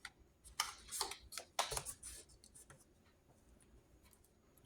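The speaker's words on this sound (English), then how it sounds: "you're just going to score and turn it around, score again" A scoring tool scratches across craft paper in short, light strokes, several quick scrapes in a row that then fade to quieter, scattered scratches.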